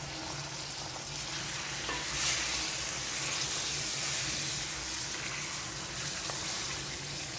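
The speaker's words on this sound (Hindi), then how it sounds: "मीडियम टू लो फ्लेम पे अब हम इन सारी चीज़ों को कुक करेंगे" Marinated chicken for biryani cooks in a pan over a medium-low flame, giving a steady, close sizzle and frying hiss with occasional stirring scrapes and no speech.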